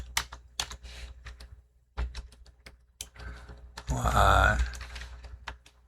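Someone types on a computer keyboard in a command prompt, with sharp clustered keystrokes in quick bursts between pauses while a person talks over them.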